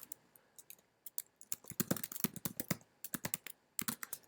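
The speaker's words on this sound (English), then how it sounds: "I'm just typing too fast." Fast typing on a computer keyboard, a quick irregular patter of crisp key clicks in bursts, close and fairly quiet, with no talking.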